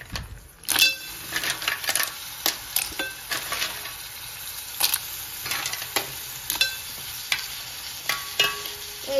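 Clams are tipped into a hot frying pan and stirred, giving a steady sizzle under repeated scraping clinks and knocks of the spoon against the pan.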